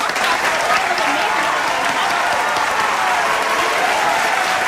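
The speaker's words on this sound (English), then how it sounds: "Let's get a round of applause for that" A dense, steady round of audience applause fills the room, loud and continuous throughout with no pauses.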